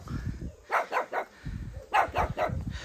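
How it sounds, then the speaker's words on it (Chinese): A dog at an elderly man's remote home deep in the mountains barks in two close, quick bursts of about three barks each, with low rumbling handling noise between them and no talk. "小狗狗"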